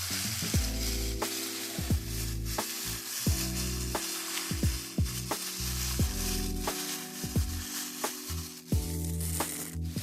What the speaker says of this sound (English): Now you just want to go in and mix it all together.